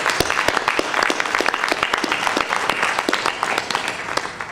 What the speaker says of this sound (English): let's give all of our award recipients a round of applause